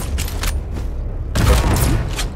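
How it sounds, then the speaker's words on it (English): Shotgun blasts in the arena shooter Quake Champions, loud and close, one burst of fire, then a heavier blast about halfway through over a rumbling game background. "48 damage for a shotgun."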